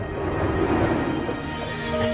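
Frightened horses whinny with a long, shaky neigh over a rumbling, busy background, close and loud.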